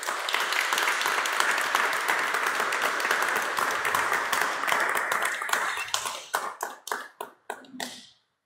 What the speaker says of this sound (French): On peut lui donner à lui aussi une bonne main d'applaudissements.